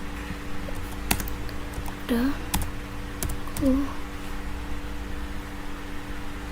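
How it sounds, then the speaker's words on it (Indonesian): Scattered clicks of keys being pressed on a computer keyboard while a command is typed in a terminal, a few sharp isolated taps over a steady electrical hum and background noise. "Copy itu di terminal, kita ketik cp"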